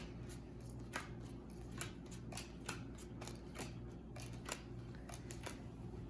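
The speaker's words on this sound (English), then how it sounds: "Hannah's going to deal out the cards" Playing cards from a single deck are dealt face down for a game of Kings in the Corner, a quiet series of light card snaps and slides over a faint steady hum.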